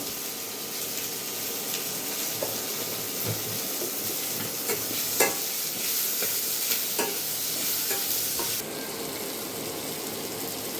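Onions fry in a little oil in a pan with salt added, sizzling and hissing steadily throughout, with occasional stirring clinks and scrapes, close and fairly loud, no talk.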